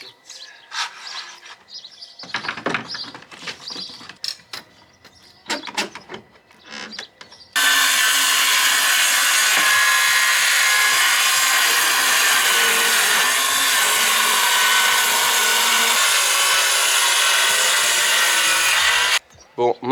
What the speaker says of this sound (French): on prend nos cotes, on coupe nos contreplaqués et on assemble tout ça